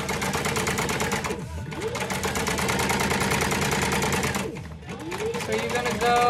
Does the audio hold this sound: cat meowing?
no